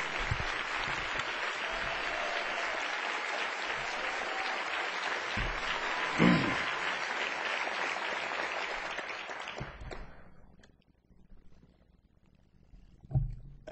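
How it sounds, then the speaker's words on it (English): A political rally crowd roars with sustained cheering and clapping, a dense wash with a sharper whoop partway through, before the noise drops away abruptly into near silence with a few stray claps and shouts. "Let me hear you scream."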